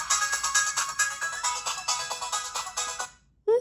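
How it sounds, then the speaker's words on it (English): Tinny game music and beeps from the single mono speaker of a $9 handheld console, a busy rhythmic electronic tune that cuts off near the end before a short rising blip. "Even though there are speaker grills on the both sides, the sound is mono."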